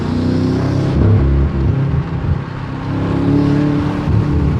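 A BMW M car engine with a front-mount intake revs hard and steadily up close, a loud sustained roar with swells and dips in throttle over several seconds, no voices.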